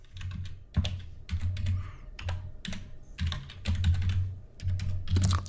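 Typing on a computer keyboard, a steady run of close, crisp keystrokes in uneven clusters with short gaps between them, alone and moderately quiet.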